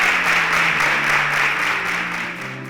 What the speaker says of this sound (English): Please, a round of applause for Kofo as you exit.